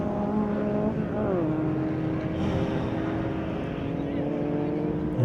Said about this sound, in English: Getting as much drive down in these little Polo engines as possible.